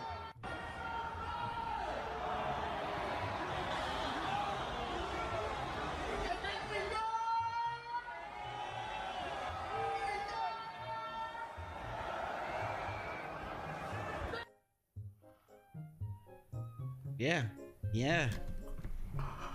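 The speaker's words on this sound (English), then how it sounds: "They were booing you the entire time." Rolling Loud festival crowd booing rapper Rakai on stage, a loud continuous roar of massed voices with chatter mixed in, dropping out briefly near the end before scattered voices and shouts return.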